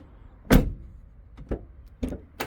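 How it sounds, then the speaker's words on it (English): A sticking sliding door on a VW Caddy van being worked, heard as a loud thump followed by three sharper knocks and clunks spaced about half a second to a second apart, close by with no talking. "This door was sticking a bit."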